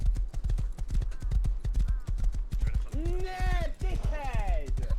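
Horse hooves clip-clopping in the survival game Rust, a steady rhythmic run of close hoofbeats, with a voice coming in over the second half.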